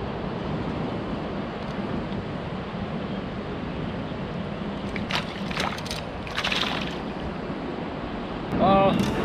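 Strong wind buffets the microphone over rough sea waves around a fishing boat, a steady roaring rush with brief gusts and a few knocks, and a faint voice near the end.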